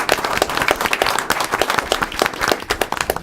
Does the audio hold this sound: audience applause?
yes